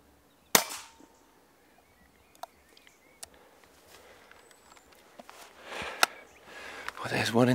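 A single sharp airgun shot rings out close by, fired at a rabbit in a clean headshot, followed by quiet rustling, scattered small clicks and louder shuffling noise toward the end.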